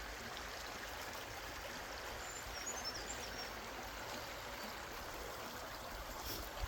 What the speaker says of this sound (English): the water masks a lot of sound, drowns out a lot of background noise